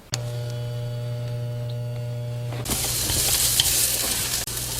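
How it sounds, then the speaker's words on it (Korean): Vegetables for japchae go into a hot pan, and a low mains hum gives way to a loud, bright, continuous stir-fry sizzle. "이제 야채를 볶아볼게요"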